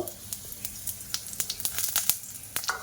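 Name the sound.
panch phoron and dry chillies sizzling in hot mustard oil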